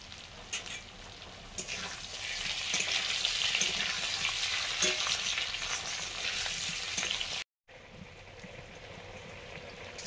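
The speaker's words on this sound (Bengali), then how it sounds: "আলু ভাজার সময় একটু হলুদ দিচ্ছি।" Potatoes frying with a little turmeric in a pan, a steady close sizzle with stirring scrapes throughout, broken by a brief silent gap near the end before the sizzling resumes.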